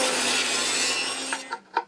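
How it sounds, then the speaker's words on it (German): A Makita router cuts a groove into a small solid wood block, a dense close grinding roar that runs steadily, then cuts off into a few short knocks and scrapes. "Da schneide ich jetzt genauso eine Nut rein wie in dem großen Brett."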